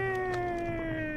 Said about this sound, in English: Shut up, my cat.